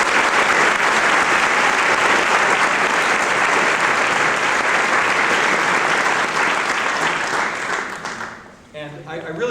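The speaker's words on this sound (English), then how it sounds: "and let's give her another round of applause." Sustained audience applause at a high school choir concert fills the room loudly and evenly, then tapers off near the end as a voice begins speaking.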